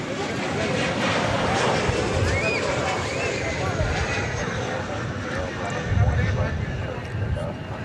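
A freighter aircraft on a runway at DFW Airport produces a broad, steady engine rumble and roar, moderately loud and continuous, with outdoor background noise and occasional voices.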